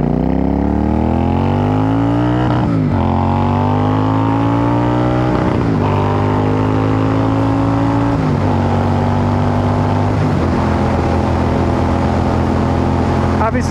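A Royal Enfield Super Meteor 650 motorcycle engine under way, loud and steady with rising pitch sweeps through several gear changes, a rider talking over it.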